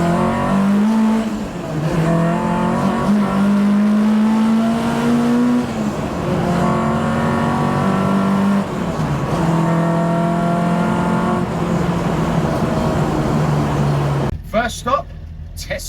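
A car engine revs hard with rising, strained pitch sweeps, then pulls away and settles into steady driving, loud and close throughout before cutting off abruptly near the end.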